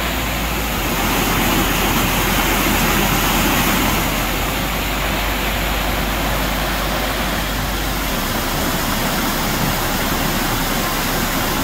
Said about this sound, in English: I hear your waterfalls.